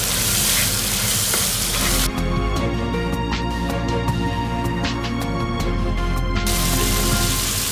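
Crawfish fry in a pan with a loud, continuous sizzle while being stirred, scraping and clattering close by, and the hiss shifts partway through as the shells are turned.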